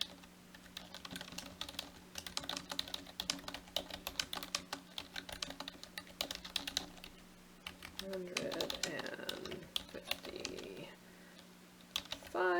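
Rapid typing on a computer keyboard, a quick stream of light clicking keystrokes heard close up over a quiet background, with a few soft murmurs partway through.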